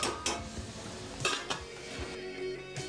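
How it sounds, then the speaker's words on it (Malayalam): Metal cooking vessels clatter and clink as a pot of chicken is covered with another vessel used as a lid, a few quiet, close knocks and scrapes with no talk. "ഇതിനെ നമുക്ക് ഒരു പാത്രം കൊണ്ട് അടച്ചു വെക്കാം"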